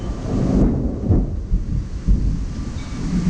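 Thunder from an August thunderstorm in Jefferson, Wisconsin: a loud, deep, sustained rumble with rolling swells, mixed with wind and rain noise and no talking.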